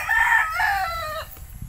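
A fighting stag rooster crows once, loud and close, a drawn-out cock-a-doodle-doo lasting just over a second that trails off into quiet farmyard background.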